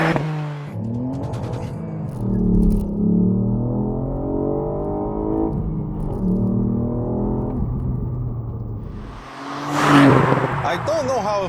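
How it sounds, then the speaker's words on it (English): A 2018 Ford Fiesta ST engine is held at high revs under launch control, then surges and shifts pitch as the car pulls away with wheel spin. A voice talks over the steady loud engine drone throughout. "I engage launch control from the Ford Fiesta's menu."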